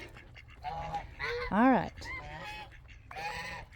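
Guinea fowl keets give a run of honking, nasal calls close by, with one louder rising-and-falling cry in the middle. A person speaks briefly over the chatter.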